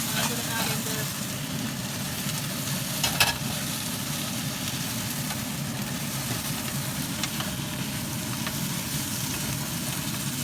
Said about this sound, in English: Make sure you stir it because everything sticks to the bottom.